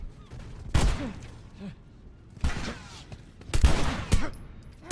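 Gunfire in The Last of Us comes as three sharp, loud bursts spaced a second or more apart, with quieter game sounds and brief voice exclamations in between.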